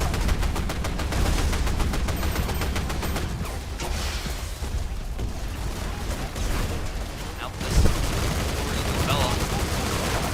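Video game gunfire in a chaotic port battle, with dense rapid automatic fire rattling continuously and one heavier boom near the end, mixed under shouted player commentary.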